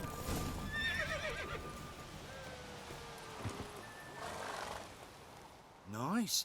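A horse neighs and whinnies repeatedly during a horse race in The Witcher 3 video game, with hoof clip-clop underneath and a final loud whinny at the end; someone talks over parts of it.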